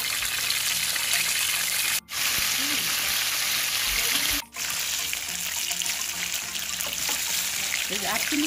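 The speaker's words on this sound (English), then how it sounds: "I'll put some oil for frying." Lamb chops fry in hot oil with a steady, loud sizzle and crackle, punctuated by a couple of short pauses, close up in a home kitchen.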